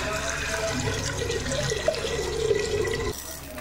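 Water pours into a pressure cooker for cooking dal, a steady splashing stream that runs for about three seconds before stopping abruptly.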